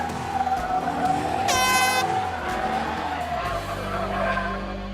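A car drifts through a slide with the e-brake held, tires squealing loudly and the engine roaring close by, with a brief horn-like tonal burst partway through before the engine note drops to a steady low drone.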